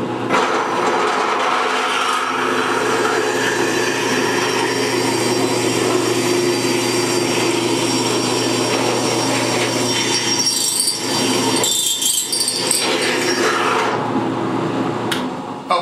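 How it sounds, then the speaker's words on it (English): A core drill bores out bolt material in a cylinder head being prepared, a steady loud grinding rasp running continuously for about fourteen seconds before cutting off, with no talk over it. "I use a core drill, a drill to take the bolt material out"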